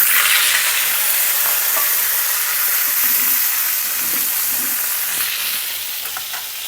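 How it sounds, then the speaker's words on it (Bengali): Potatoes fry in oil already used for frying katla fish, producing a loud, even sizzling hiss up close that eases slightly toward the end. "আমি এই একই তেলে এখন আলুগুলো ভেজে নেব।"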